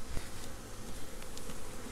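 Angry honey bees swarm around a hive being moved for winter, a dense, close, continuous buzz with individual bees passing near, no voices.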